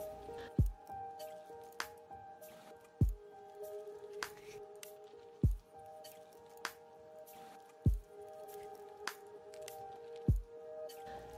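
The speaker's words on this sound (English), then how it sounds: "open the valve to extract the aqueous layer into the receiving Erlenmeyer flask" An aqueous layer drains through an open valve into an Erlenmeyer flask during a lab extraction, giving about five evenly spaced, close drips or plops over a quiet background with a low steady hum.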